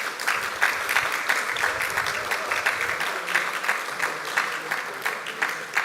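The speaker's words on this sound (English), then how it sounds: "So please give them a round of applause" An audience at a community mental health event claps together for several seconds, a full, even burst of applause with individual claps showing through the steady roar.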